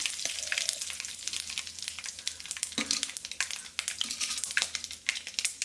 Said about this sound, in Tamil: ஒரு வானல் வச்சு கொஞ்சம் எண்ணெய் ஊற்றி கடுகு கருவேப்பிலை போட்டு வெங்காயம் தக்காளிலாம் போட்டு நல்லா சூப்பராக வணக்கிடலாம்